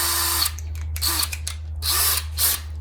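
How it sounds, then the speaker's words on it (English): A regular drill bit bores slowly through plexiglass in short bursts, a whining, scratchy grind that starts and stops several times, close and alone with no talk. "If you don't have one of those kind of bits, a regular drill bit will also suffice."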